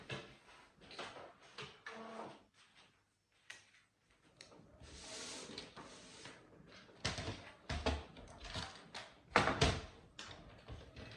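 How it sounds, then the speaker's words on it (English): Someone shuts a door in a small business's packing workspace, with a scatter of wooden knocks, rubbing scrapes and a few sharper thumps spread over several seconds, close and moderately loud. "I am shutting the door as it's getting drafty in here"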